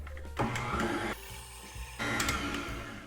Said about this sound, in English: we're gonna start by creaming that with the KitchenAid.